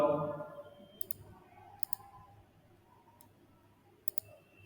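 Computer mouse clicks while editing cells in an Excel spreadsheet: a few sharp double clicks spaced a second or more apart over faint room hum, with a brief voice at the very start.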